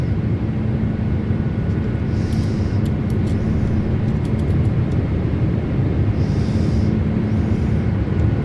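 Steady, loud airliner engine roar during a takeoff roll in Microsoft Flight Simulator 2024, a dense unbroken rumble that holds level throughout with no talk over it.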